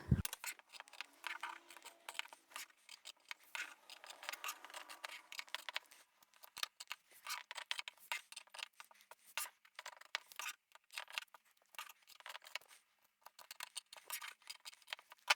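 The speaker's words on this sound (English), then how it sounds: "And once you're happy with that, cut out your lining." Scissors cutting out fabric lining for a vinyl boxed bag, close and quiet, with a long run of small crisp snips and rustles of material against a silent background.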